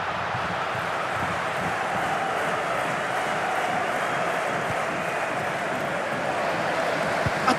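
Football crowd roaring after a goal, a dense, sustained wash of cheering and shouting from a large stadium audience, loud and continuous throughout.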